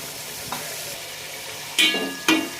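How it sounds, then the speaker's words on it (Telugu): Green chillies and cashews stirred in a frying pan for pulao, a quiet steady sizzle broken by a few sharp scraping stirs, two louder bursts near the end. "పచ్చిమిర్చి వేసుకుని ఒకసారి మొత్తం కలిపేసుకుందాం జీడిపప్పు కూడా వేసుకుని ఒకసారి కలుపుకుందాం"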